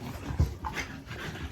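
A chocolate-colored bully dog pants and snuffles close by in quick, breathy huffs with a brief whimpery note, no voices over it.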